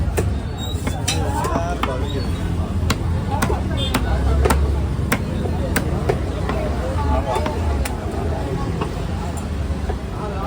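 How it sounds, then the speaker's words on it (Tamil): A knife chops through a large tuna at a fish market, giving a series of sharp, irregular thwacks over a steady crowd hubbub, with someone talking throughout. "அந்த மாதிரி வெட்டுறது தான் கொஞ்சம் கஷ்டம் அதனால தான் இந்த கண்ணு பார்த்து வெட்டுறேன்"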